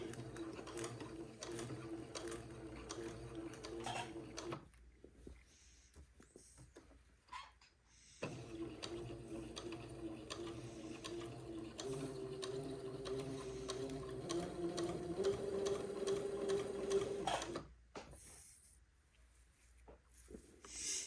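A sewing machine stitches a curved seam on a baby garment at slow speed, running in steady bursts of rapid mechanical chatter broken by short pauses, close and moderately quiet.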